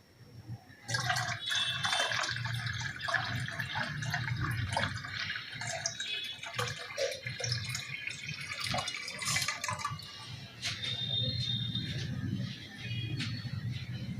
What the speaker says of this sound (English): so I am filling more water.